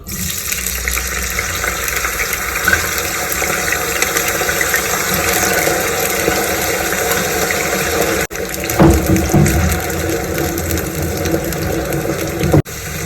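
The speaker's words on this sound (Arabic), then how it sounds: "هجيب بقى الطاسه بتاعتي، الزيت بتاعي سخن. هنزل بقى بالبطاطس." Potatoes fry in hot oil in a pan with a loud, close, steady sizzle. The sizzling dips briefly twice as if the pan is shaken or stirred.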